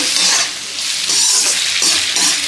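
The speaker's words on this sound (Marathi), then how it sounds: "आता या भाज्या आपल्याला फक्त एक ते दीड मिनिटांपर्यंतच परतून घ्यायचं आहे" Carrot, capsicum and onion stir-frying over medium heat for soybean chilli, a loud, close, hissing sizzle that swells and eases as the vegetables are tossed.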